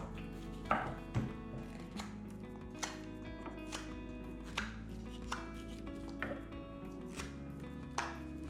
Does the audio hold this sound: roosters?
no